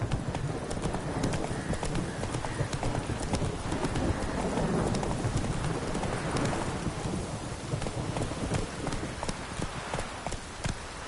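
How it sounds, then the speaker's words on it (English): The horse Roach gallops through The Witcher 3 in a fast, continuous clip-clop of hooves under rain-like ambience, loud and close throughout. "Run, Roach"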